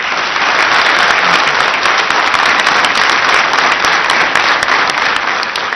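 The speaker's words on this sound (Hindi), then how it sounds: "आप तालियां बजाकर स्वागत कीजिए।" A television studio audience claps loudly in welcome during a courtroom-style interview show, a sustained, thick wall of applause that holds steady from start to finish.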